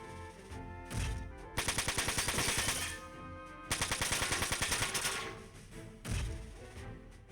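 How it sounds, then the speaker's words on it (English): Machine gun fire in the mech strategy game Front Mission 4, two rapid bursts of rattling shots, each about a second long, with heavier impact booms between them. "We're gonna hit her with the machine gun first."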